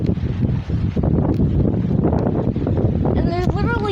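Strong, gusting wind roars and buffets the microphone during a severe dust storm, a loud continuous rush with flapping and rattling, and brief tonal whistles near the end.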